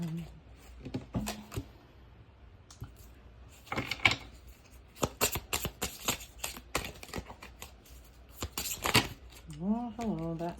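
Tarot cards shuffled and pulled from a deck during a reading: soft, quick clicks and light riffling in short clusters, fairly close and quiet, with a voice speaking briefly at the start and at the end.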